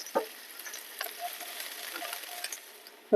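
Soft, steady sizzling of chopped onions frying in oil, with light scraping and stirring noises, fairly quiet and close, no voices.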